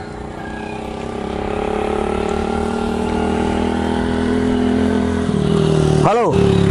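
An old car's engine runs with a steady, loud drone that rises slightly, then falters and cuts out near the end with a brief sweeping whine, as a struggling motor stalls.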